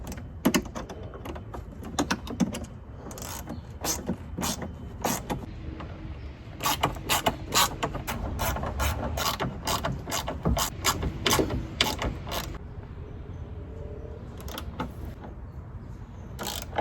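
Size 13 nuts being tightened with a ratchet on a Motobilt rocker guard for a Jeep TJ, heard as loud, close, rapid clicking runs in repeated bursts across the whole stretch, with no talking.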